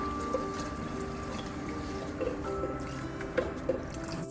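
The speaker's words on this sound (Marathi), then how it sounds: "यामध्ये पाणी सोडूया" Water trickles and splashes steadily into a pan of chickpea gravy for tarri poha, a soft continuous pour with a few louder plops, no voices.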